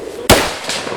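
A single loud, sharp gunshot cracks out close by during a tactical shooting exercise, with a fainter second report trailing shortly after and no talk.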